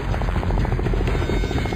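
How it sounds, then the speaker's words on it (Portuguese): Rescue helicopter flying near an erupting volcano on Montserrat, a loud close rotor thump with rapid even beating over a heavy engine drone, steady throughout. "À 1h10 da tarde, um corajoso resgate de helicóptero tem início"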